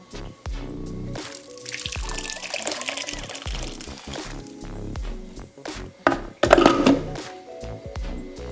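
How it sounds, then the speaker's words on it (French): Fruit cocktail ingredients being poured, heard as a steady close stream of liquid running and splashing for several seconds and getting louder near the end, with no speech. "Oui, Kounia, nous allons couler"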